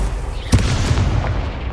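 An Incendio fire spell cast in Hogwarts Legacy lets out a single sharp booming burst with a short rumbling tail, loud and close against a low game background.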